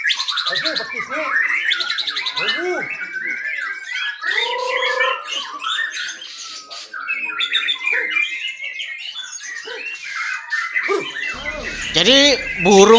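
An oriental magpie-robin (murai batu) at a songbird contest sings a loud, dense, continuous stream of shrill whistles, trills and rolls imitating a cucak kopi's rolling song, close and unbroken for the whole stretch.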